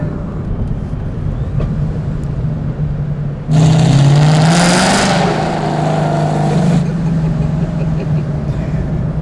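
A Procharged 2015 Ford Mustang GT accelerating hard in fourth gear, with a loud rising supercharger whine and engine roar heard from inside the car for about three seconds before easing back to a steady drone.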